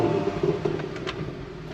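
A Porsche Macan GTS with a twin-turbo V6, 95B.2 facelift, idling steadily with a low, even rumble close by; a few faint clicks and brief mechanical ticks sit over the hum, and nobody speaks.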